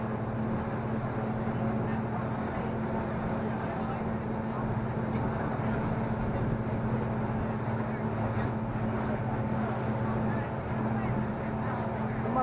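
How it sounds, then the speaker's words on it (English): A low steady engine of a Harkers Island ferry boat rumbles continuously, with wind buffeting and faint voices in the background. "There's another ferry boat right here"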